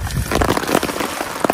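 Rain drumming on a tent pitched at a mountain camp on Mount Agung, a dense, steady patter of drops up close with no voices.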